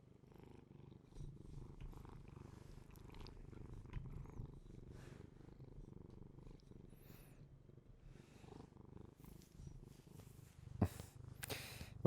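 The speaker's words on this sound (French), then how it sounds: "écouter le ronron du chat" A domestic cat purrs close up in a quiet room, a soft, low rhythmic rumble that carries on steadily with small rustles and a few sharper knocks near the end.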